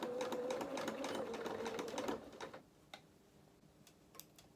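A sewing machine stitches a 1/4 inch shoulder seam on a doll dress bodice, running steadily for about two seconds with a rapid mechanical whir, then stopping, followed by a few quiet clicks.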